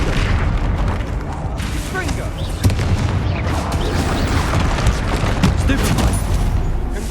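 Booming spell blasts from Bombarda and other duelling magic in Hogwarts Legacy, a dense run of loud explosive bursts and pops layered over game combat noise, with voices calling out spells throughout.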